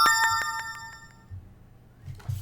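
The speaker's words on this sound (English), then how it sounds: "I think that was the phone." A phone notification chime rings out near the start, a few bright metallic dings that decay quickly into quiet, with faint low thumps afterwards and no talking.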